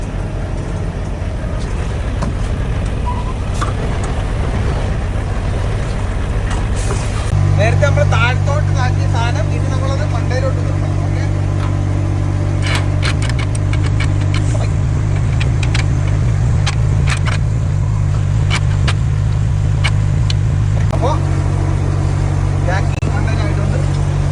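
A truck engine, coupled to a trailer, drops into forward gear and pulls. A low steady rumble deepens and strengthens partway through and then holds as a droning hum while a person talks over it.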